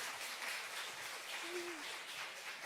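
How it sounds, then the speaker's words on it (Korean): Applause in a church service hall for the buckwheat noodle team, a steady dense wash of clapping from a congregation lasting throughout, with a brief faint tonal sound midway. "박수 한번 쳐주세요"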